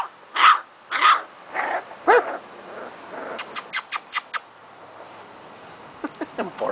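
Several loud, close barks ring out, followed by a rapid string of shorter, sharper yaps and a few more near the end.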